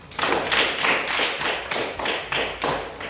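A class of students claps together in a patterned rhythm, about nine bursts of collective hand claps, loud and close in a classroom.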